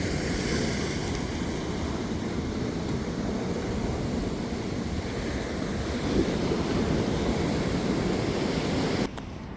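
Steady roar of ocean surf on Thanni Beach, continuous and fairly loud, with wind rushing across the microphone.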